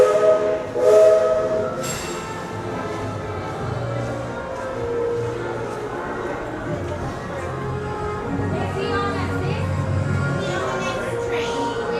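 The Walt Disney World Railroad train rumbles and clatters nearby, with a brief whistle early on, while people talk over the rolling noise.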